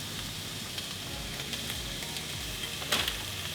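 Bacon fries in a pan with a steady, close sizzle and crackle, small pops scattered throughout and a brief louder burst near the end, with no talking.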